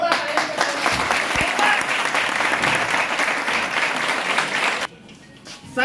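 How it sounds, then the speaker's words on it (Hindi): A crowd at a Hindi business meeting gives loud, dense applause that holds steady for nearly five seconds, then cuts off abruptly to quieter room noise. "सर के लिए एक बार जोरदार तालियां फिर से।"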